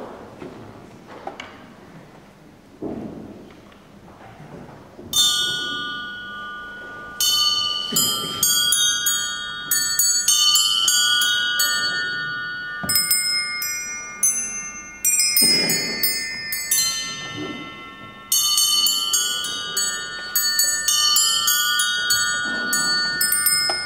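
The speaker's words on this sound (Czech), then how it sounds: "A právě zvonkohrou bych tedy začal, protože zvony jsou tedy velkým koníčkem a velkou láskou" A carillon plays a melody, with sustained ringing bell tones struck in phrases that layer and decay, loud and clear after a few seconds of quieter knocking and handling sounds at the start.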